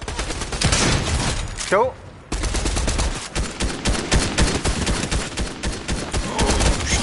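Rapid automatic gunfire from the Goldwars video game, dense rattling bursts running almost continuously, loud and close, with someone talking briefly over it.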